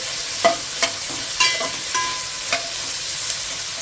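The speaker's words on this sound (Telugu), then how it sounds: "ఇప్పుడు ఈ క్యాలీఫ్లవర్ని ఉల్లిపాయలతో పాటు ఒక రెండు నిమిషాలు ఫ్రై చేసేసుకోవాలి" Cauliflower frying with onions in a pan for masala curry, a steady close sizzle punctuated by several sharp stirring scrapes about every half second.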